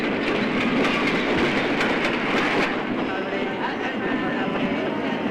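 A train rolls through a railway station with a steady, loud rumble and rhythmic wheel clatter, close by, with voices faintly mixed underneath.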